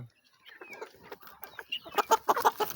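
A chicken clucks close by in a quick series of short, throaty bursts that grow louder toward the end.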